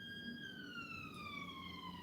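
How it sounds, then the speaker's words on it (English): An ambulance siren wails steadily in a falling sweep, its tone sliding gradually lower as the vehicle passes, moderately distant and fairly faint over low background rumble. "Ambulance."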